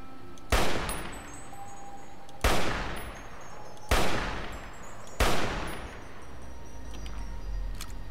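Four loud, evenly spaced single gunshots in Fallout: New Vegas, each a sharp crack with a decaying tail about every one and a half seconds, with no talk over them.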